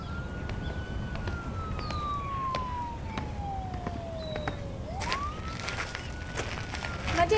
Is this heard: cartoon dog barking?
no